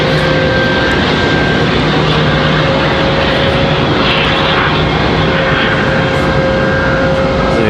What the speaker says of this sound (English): Wait this JetBlue startup here.